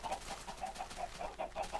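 Chickens cluck in Minecraft, about ten short, evenly spaced clucks repeating quietly and close by.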